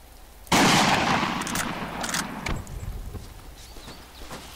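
In the video game Iron Front, a burst of gunfire opens with a loud crack, followed by a dense, decaying roar of shots and scattered smaller pops.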